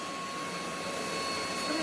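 A cordless VacLife vacuum cleaner runs with a steady, loud whirring whine that climbs slightly near the end, and voices can be heard faintly underneath.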